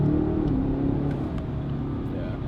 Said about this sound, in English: This is a true exhaust note that everybody else will be able to hear, and not just you